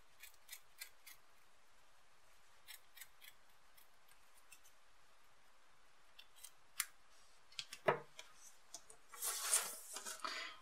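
Scissors snip the ends of elastic and yarn on a crochet gingham scrunchie in a quiet room, with a faint scattering of light ticks followed by a single close cut and a brief rustle.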